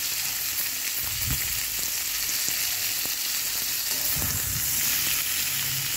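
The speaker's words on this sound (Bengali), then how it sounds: "আবার তেল দিয়েছি, দিয়ে আলুটাকে ভেজে নেব" Boiled potatoes fry in oil in a kadai with a continuous, even sizzle at moderate loudness. Soft low knocks from stirring break through now and then, and no voices are heard.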